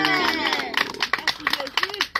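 Hands clap in a lively, uneven patter amid excited voices and crowd babble, with speech and calls heard over the clapping throughout.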